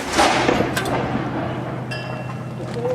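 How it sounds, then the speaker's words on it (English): A ceremonial cannon salute fired at Fort Mackinac on Mackinac Island, heard as a loud, booming blast that rolls and echoes outdoors, with crowd murmur audible underneath. "there's a cannon salute to welcome you all to Fort Mackinac today"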